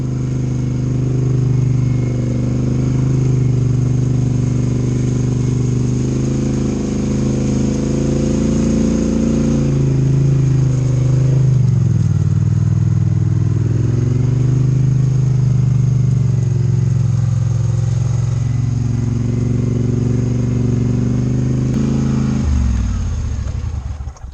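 Off-road 850HL with a 2-inch lift and 32-inch Sludgehammer tires driving at about 70 mph. Its engine drones loud and close for the whole stretch, with gentle pitch swells as speed shifts.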